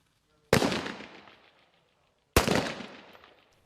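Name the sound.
rifles firing live rounds at a 25-metre shooting range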